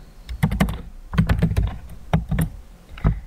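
Python code being typed on a computer keyboard, close and crisp clusters of clacking keystrokes in quick bursts separated by brief pauses, with no voices.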